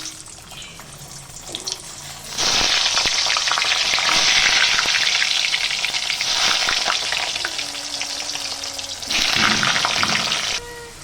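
Potatoes for mutton curry frying in a pan, a loud, steady hiss of hot oil that swells and holds for long stretches, with faint clatter underneath and no talk.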